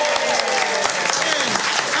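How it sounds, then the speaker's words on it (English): Audience applause for the lighting technician at a live comedy show, a dense, steady wash of clapping that fills the whole stretch with faint voices mixed in. "a big round of applause for James on the lights"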